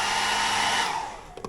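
A hair dryer in a hotel room blows with a steady, loud rushing whir that tapers off near the end, followed by a couple of faint clicks.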